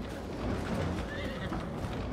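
A short whinny from horses in a Farming Simulator 22 pasture rises briefly over a muffled bed of hoof clops and low background noise, faint and brief.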